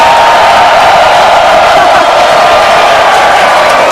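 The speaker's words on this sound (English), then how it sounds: "Everyone cheering as we get into T-minus 5 minutes" A large crowd cheers at the countdown to a SpaceX Starship launch, a loud, sustained roar of voices and whoops that holds steady from start to finish.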